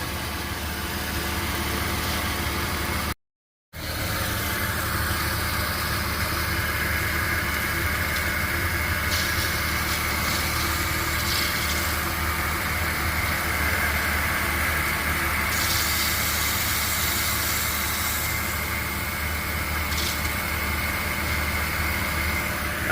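A 2000 Porsche Boxster 2.7 engine runs at a steady idle, recorded up close near the serpentine belt, with a constant loud drone, a brief dropout early on and faint intermittent whirring on top.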